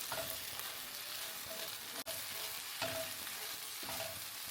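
Beef and sliced onions fry in a pan with a steady close sizzle, broken by a few stirring scrapes and one brief sharp clack, no talking.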